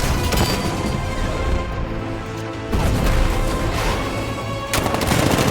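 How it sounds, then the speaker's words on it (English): An unmanned tank's cannon fires in a Batman Arkham game, heavy booming blasts with rattling bursts of fire and crashing debris, close and loud in three surges. ".60mm cannon operational."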